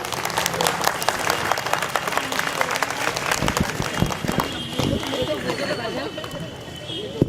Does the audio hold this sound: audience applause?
yes